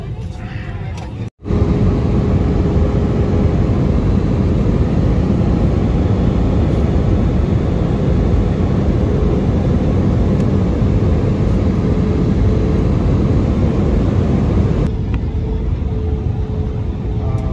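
An airliner taking off heard from inside the cabin by a window: a loud, steady roar of jet engines with deep rumble holds for over fifteen seconds, easing slightly at the end.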